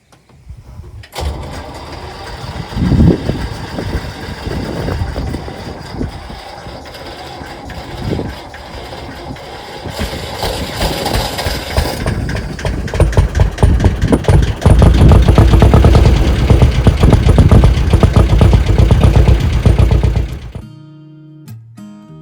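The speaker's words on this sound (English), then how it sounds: "I think we're going to get her started up. Cool. Crank up the ignition." A canal boat engine cranks and catches, then settles into a loud, steady mechanical idle with rattling that grows heavier before cutting off abruptly near the end.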